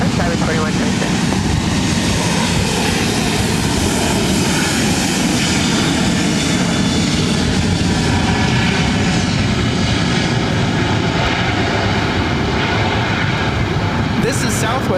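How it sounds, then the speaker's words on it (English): Southwest Airlines Boeing 737-700 departing LAX for Denver, a loud sustained jet engine roar that builds and rumbles steadily throughout, with talk faintly beneath it. "This is Southwest Airlines 2979 taking off to Denver on the 737-700."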